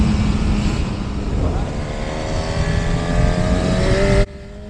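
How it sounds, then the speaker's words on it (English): A Honda CB1000 Hornet motorcycle engine pulls hard while riding, a loud continuous roar with rising revs and wind rush over nearly five seconds before it cuts abruptly near the end. "This is one fun to ride motorcycle"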